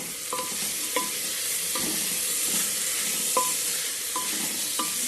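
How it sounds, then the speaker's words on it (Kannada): Capsicum, cauliflower and green chillies fry for a soya chunk vegetable biryani with a steady hiss, while a spoon stirs and scrapes the pan in a run of sharp, evenly spaced clinks. "ವೆಜಿಟೇಬಲ್ಸ್ ಎಲ್ಲ ಹಾಕಿದ ಮೇಲೆ ಸ್ವಲ್ಪ ಫ್ರೈ ಆಗೋಕ್ಕೆ ಬಿಡಿ."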